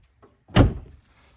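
A single car door thuds shut, one short solid slam after a faint click, in an otherwise quiet space.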